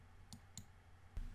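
Mouse clicks on the Go button in VisSim software, three short sharp clicks spaced apart against faint background hum.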